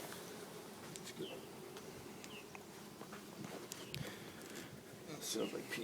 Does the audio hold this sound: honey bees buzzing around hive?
yes